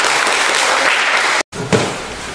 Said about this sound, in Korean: 수고해주신 우파학습관님께 다시 한번 큰 박수 부탁드리겠습니다.